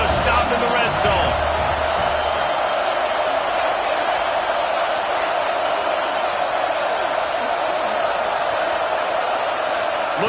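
A stadium crowd at a football game roars steadily for the defense during a red-zone stand, a dense sustained wash of cheering with a brief burst of noise near the start.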